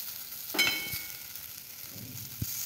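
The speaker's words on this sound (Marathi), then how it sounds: "आपली मिरची आता छानपैकी मस्त फ्राय झाली आहे" Stuffed chillies and okra frying in oil in a covered pan, a soft steady sizzle with a brief burst and a later small knock, close and fairly quiet, no talking.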